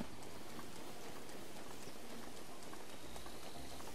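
Steady rain in the video game Breath of the Wild hisses softly with scattered patters of drops, a faint, even wash of sound with no voices.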